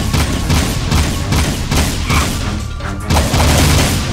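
Gunfire in the Jak 2 video game on PlayStation 3, a loud, dense run of repeated shots and booms in rapid rhythm, close and continuous throughout.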